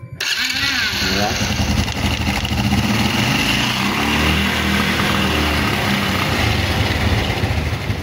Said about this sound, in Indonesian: Nah, kan motornya sudah hidup